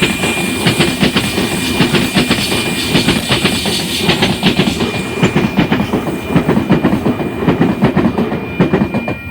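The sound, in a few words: Oscar H-set train passing, clickety-clack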